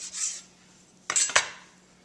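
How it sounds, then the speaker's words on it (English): A knife slices down through a stack of prosciutto on a board, with a faint scrape at the start and two quick close cutting strokes, then quiet. "I'm going to cut right down the middle"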